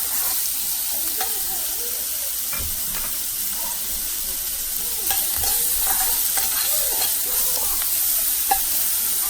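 Chopped onion fries in a pan for a Telugu-style okra dish, a loud continuous sizzle with repeated scraping stirs of a spatula close by.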